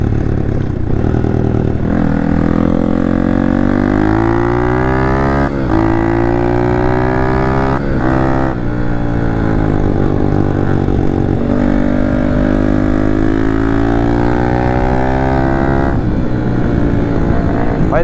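A motorcycle on supermoto tires rides steadily, its engine droning loud and close with pitch rising and falling as the throttle shifts, a few brief dips between gears.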